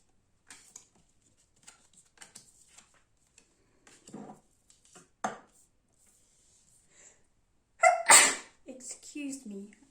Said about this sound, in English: that was a very, very horrible sounding sneeze.